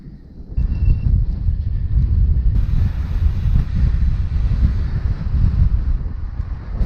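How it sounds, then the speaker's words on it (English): Strong wind buffets the microphone in a continuous low roar, gusting unevenly throughout, during a winter road cycling ride into a headwind. "but it is very windy"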